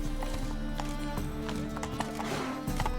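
Hooves pound in a fast, regular gallop as a horse in The Witcher 3 runs, with a short whinny near the end, all over a continuous game music bed.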